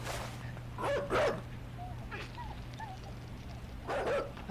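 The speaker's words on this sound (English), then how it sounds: "Get away, dog!" A dog in the side-scrolling video game Inside barks in several sharp bursts, some paired and some single, over a low steady hum and a quiet game ambience.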